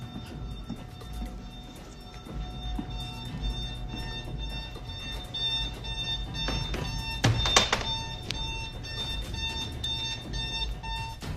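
An electronic alarm at a workplace in the early morning beeps and rings continuously at a steady pitch, with a few knocks and clatters rising midway.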